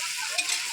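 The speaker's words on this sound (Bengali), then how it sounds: "এখানে এখন আলু ভাজা হচ্ছে।" Potatoes frying in a large pan give off a steady, close hiss with a brief bump of stirring partway through, and no voices.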